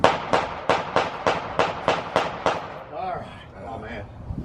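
Rapid string of about eight sharp suppressed rifle shots fired through a Yankee Hill Phantom 22 suppressor at an outdoor range, evenly spaced and close, followed by quieter handling noise and brief voices.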